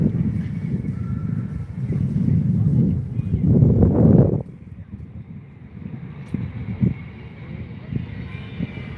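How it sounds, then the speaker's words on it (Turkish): Steady low rumbling sea wind gusts buffet the microphone, heavier for the first few seconds and then easing to a softer, continuous blowing. "denizin içine doğru girdikçe evet rüzgar esmeye başladı"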